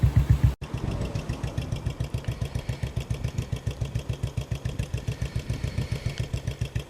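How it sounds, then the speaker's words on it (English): A Royal Enfield Bullet motorcycle engine idles close by, a steady loud thumping single-cylinder beat with even, regular pulses throughout, after a short break near the start; no one speaks. "We're back on Raj, the Bullet, the Royal Enfield Bullet."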